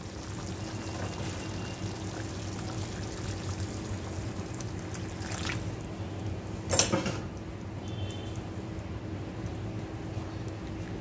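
Water being poured into a pan of cooked okra curry for a thin village-style gravy, a soft steady stream with a brief splashier burst near the middle and a low hum underneath.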